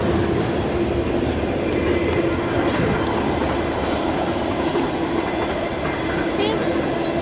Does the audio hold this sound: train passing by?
yes